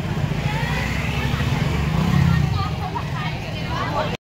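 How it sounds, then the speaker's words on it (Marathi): A crowded, busy fish market by the coast, with a dense hubbub of many overlapping voices close by and traffic noise mixed in, steady throughout before cutting off abruptly at the end. "हे लई गर्दी आहे रे."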